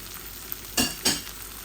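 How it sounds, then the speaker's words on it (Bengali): Garlic leaves dropped into a hot pan frying, with a soft steady sizzle followed by two short, louder bursts of crackling as they hit the oil and are stirred. "এখন আমি একটু রসুনের পাতা দিচ্ছি আমার গার্ডেনের।"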